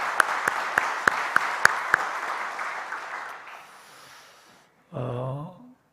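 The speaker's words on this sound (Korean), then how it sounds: "박수 한번 할까요?" A church congregation claps for its choir, a few sharp individual claps standing out over a soft spread of applause that gradually thins to silence, followed by a brief spoken voice.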